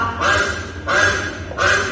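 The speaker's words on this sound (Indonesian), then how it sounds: "Bebek." A recorded duck quacks in three separate bursts, each about half a second long, with short pauses between them. It is played back at moderate loudness in a classroom lesson on animal sounds.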